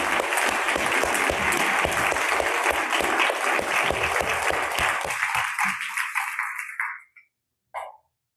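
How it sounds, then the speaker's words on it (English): A church congregation claps for volunteers at a Sunday service, dense steady applause from a full room that thins into scattered claps and ends, followed by one brief isolated sound. "So now is the applause moment for all of these people who did all of this"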